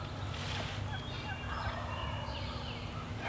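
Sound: wild turkey gobbling

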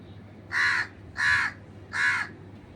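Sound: crow cawing

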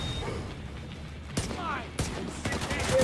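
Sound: gunfire in the video game The Division 2

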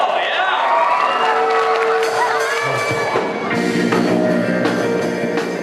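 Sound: audience applause and cheering for a school rock band

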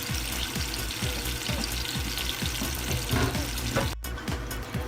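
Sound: fish cooking in sauce in a covered pan

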